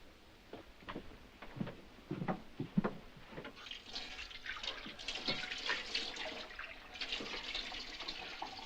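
Water runs and splashes in a basin as hands are washed, soft irregular sloshes and drips at first, then a steadier close stream, with no talk.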